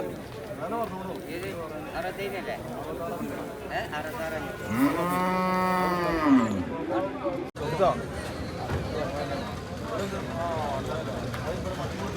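Cattle at a livestock market, including a bull, with a loud drawn-out moo near the middle, set against constant crowd chatter, footsteps and general market bustle.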